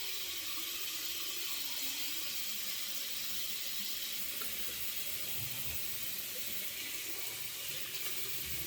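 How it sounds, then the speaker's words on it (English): Water from a bathroom tap runs in a steady, close hiss with no pauses as the face is wetted before a shave with a double-edge razor. "I need to wet the face."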